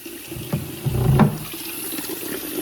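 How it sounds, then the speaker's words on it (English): Cold tap water running into a kitchen sink to fill it for washing garden lettuce and green beans, a steady close splashing stream that swells briefly in the middle, with no talking. "I let that water fill up."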